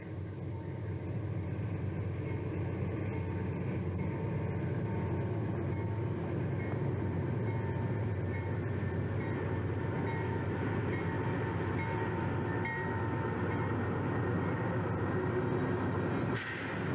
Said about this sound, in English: The Denver to Barstow train HDVBA drops off and picks up all along the way and is considered the workhorse of the line.